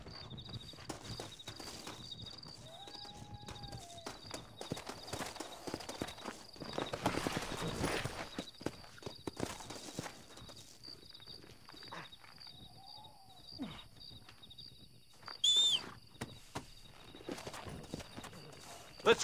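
Horses ride at a walking clip in the Red Dead Redemption video game, with faint, rhythmic hoof clops under quiet outdoor ambience, occasional whooshing and brief tonal cues, the whole scene low in level.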